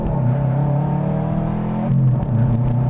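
A Subaru with a split exhaust revs loudly up close, a deep droning rumble that dips briefly near the two-second mark before surging again.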